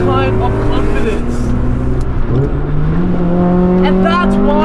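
A 30-plus-year-old Honda Civic EF9 SiR with a B16A VTEC engine drives hard, its loud, steady engine drone rising in pitch as it revs, heard from inside the car beneath a talking voice.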